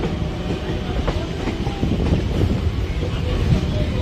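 A train rolls into Sealdah station, its steady low rumble and rattling wheels filling the scene with wind buffeting the microphone throughout.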